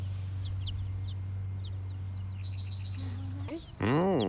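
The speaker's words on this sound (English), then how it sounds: "Do you want to see one of our chickens?" A backyard chicken gives a few short clucks over a steady low hum, followed by a louder, wavering call close to the microphone near the end.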